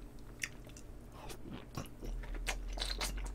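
Close crunching, chewing and wet tearing as extra-large braised spicy chicken is pulled apart by hand and eaten, with irregular bites and scrapes alone, no talk.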